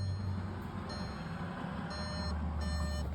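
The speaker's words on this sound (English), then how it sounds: "I'm turning the ignition on" A Volkswagen Jetta's interior chime sounds after the ignition is switched on, a few soft, evenly spaced electronic beeps over a low steady hum inside the car, with no talk.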